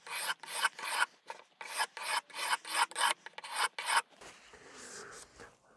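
A file rasps freehand along the secondary bevel of a hedge shear blade in about a dozen steady, close strokes with brief gaps between them, followed by a quieter scraping rub toward the end.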